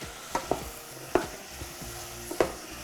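Vegetables sautéing in a pot before broth goes in, a soft steady sizzle with several sharp scraping stirs of a utensil against the pot, close and unaccompanied by talk.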